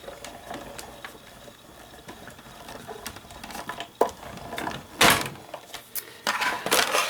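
Hand crank of a cut-and-emboss machine feeding an embossing folder through, soft clicking and grinding close by, ending in a few louder scraping rolls.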